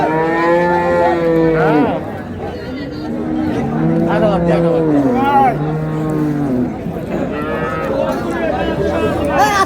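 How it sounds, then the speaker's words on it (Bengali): A dairy cow and her calf low repeatedly at a busy rural cattle market, the long harmonic moos loud and close, overlapping one another over a background murmur of crowd chatter. "দর্শক শুনছিলেন এখানে গাভী বাছুর"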